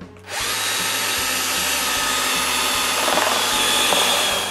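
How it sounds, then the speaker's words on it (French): A power drill bores screw holes into a wooden block for a shoe rack, its whine rising in close, loud bursts with short pauses between holes. "Pour ça, je perce 4 trous de vis."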